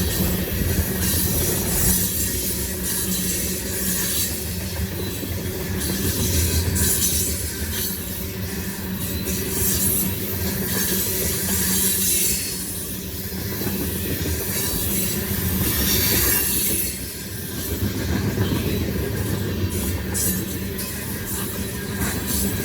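Norfolk Southern freight train of loaded ethanol tank cars rolling past close by, a steady loud roar of wheels on rail with squealing and clatter sustained throughout, no voices.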